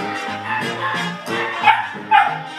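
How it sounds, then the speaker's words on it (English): Old English sheepdog barking close by, a few short woofs and yips scattered over about two and a half seconds, with louder sharp barks near the end. "Old English sheepdog, check him out."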